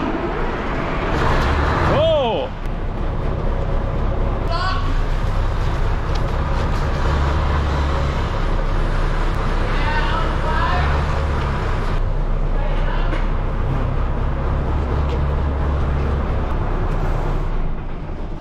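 An old, worn truck engine runs steadily at idle with a loud, continuous low rumble throughout, while people talk over it and a short whoop of a voice breaks in near the start.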